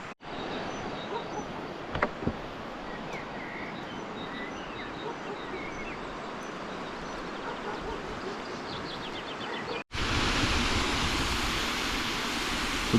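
Sykavka waterfall in the Carpathians roaring as a broad, steady rush of falling water, continuous throughout and growing louder and closer after a brief cut near the end.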